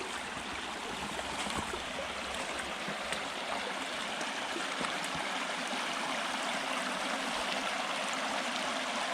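Creek water flows steadily nearby on a ranch, a constant soft rush and trickle, faint and even throughout with no speech.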